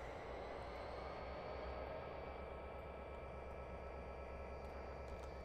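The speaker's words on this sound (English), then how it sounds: "There's the full train connected. Let's put some gas on. Keep backing it in." A train backing up with its full set of cars coupled at Castle Rock Railroad, heard as a steady, continuous rumble and roar with a faint high whine, even and unbroken throughout.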